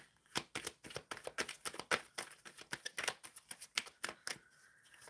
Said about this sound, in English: Shuffling for Rayon Martin.